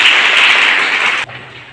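Audience clapping in welcome for Brahma Kumari Shakuntala Devi at a nursing college event, a loud dense burst of applause that cuts off abruptly, leaving quiet room tone.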